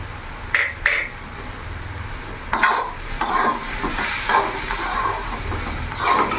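Spoon stirring turmeric, chilli powder, ginger-green chilli paste and taro stolons in a hot pan, with an oily sizzle throughout and several sharp scraping strokes against the metal, close and alone with no voices.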